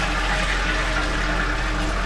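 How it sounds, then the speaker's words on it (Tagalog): Hotel toilet flushing, a steady rush of water with pump-like filling noise that runs loud and continuously, heard up close. "And then let's flush it twice."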